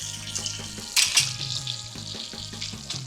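Bacon strips fry in a pan of hot grease, a constant crackling sizzle punctuated by sharp pops and a louder burst of spattering around the first second.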